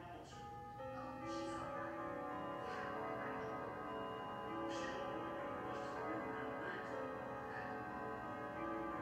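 The church bell of St. Michael's chiming the 8:45 quarter hour, sustained ringing tones overlapping and decaying across several seconds, heard from a distance with faint ambient noise.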